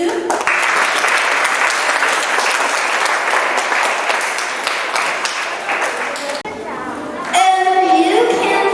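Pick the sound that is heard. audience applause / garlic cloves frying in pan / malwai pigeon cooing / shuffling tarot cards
audience applause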